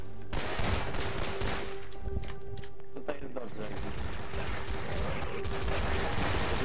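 Assault rifle firing in Gmod Zombie Survival, rapid bursts of gunshots layered over a noisy combat din, with a voice talking throughout.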